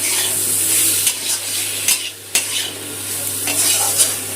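Spice masala for an egg omelette curry sizzles steadily in a pan over low heat, with a few sharp scrapes and stirring knocks from a spoon and no talk.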